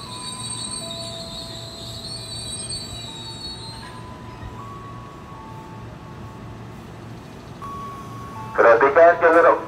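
KRL commuter electric train arriving at Duri station, a long faint rumble carrying high thin wheel squeals that drift and fade, then a loud burst of grinding and squealing near the end, with a station announcement voice over it.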